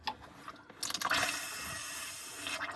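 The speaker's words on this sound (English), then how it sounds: "Right, so the water's coming through." Water flows into a home heating system's pipes as an engineer refills it, a soft hissing, gurgling rush that swells after a quiet start and then runs steadily, faint and close.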